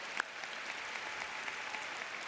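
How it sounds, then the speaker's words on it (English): Audience applause at a high school graduation ceremony, a steady, moderately faint wash of clapping throughout with no talk. "That is worth applauding."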